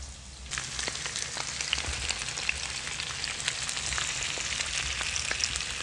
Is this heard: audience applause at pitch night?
no